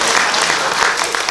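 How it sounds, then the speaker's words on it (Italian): Loud, dense applause fills a theatre as an audience claps for speakers on stage at the Giuditta Pasta in Saronno, a steady, close wash of clapping that lasts the whole moment. "grazie dell'applauso"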